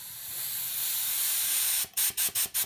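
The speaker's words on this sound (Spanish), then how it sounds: "Lo que les recomiendo es que pinten con muy baja presión." Spray gun applying automotive primer to a car body repair at low pressure: a steady broad hiss runs for nearly two seconds, then breaks into four short, even bursts of spray, close and fairly loud with no talking.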